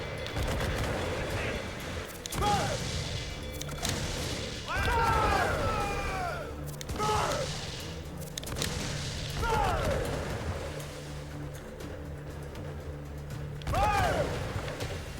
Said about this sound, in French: Ces canons ont une bonne portée.